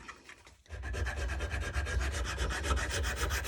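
A hand file rasps a small metal ignition timing key for a Yamaha DTR 125 in fast, even back-and-forth strokes. A brief quiet is followed by steady, close rhythmic scraping.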